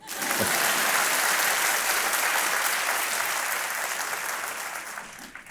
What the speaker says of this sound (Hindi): लाजमी है आपका ये ताली बजाना